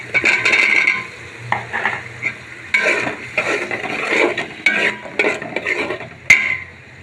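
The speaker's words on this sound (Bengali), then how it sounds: "এখন আমি কিছুটা আলু দিয়ে দিচ্ছি" Potatoes added to a pot with cumin, garam masala and salt for khichuri, then stirred: loud, close, repeated scraping and clattering strokes of a spoon against metal, ending with a sharp knock.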